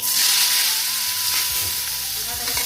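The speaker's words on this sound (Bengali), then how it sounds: "দিয়ে দেবো ফোড়নের জন্য শুকনো লঙ্কা আর কালো জিরে, দিয়ে দেবো কাঁকরোলগুলো।" Spiny gourd slices dropped into hot oil with dry red chilli and nigella seeds, crackling into a loud, bright, steady sizzle close to the pan, with light stirring near the end and no talking.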